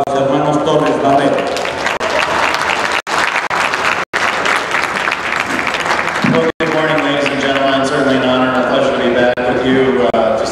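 Applause from the audience at a Holstein cow show in Mexico, a steady loud ovation running throughout with someone talking over it.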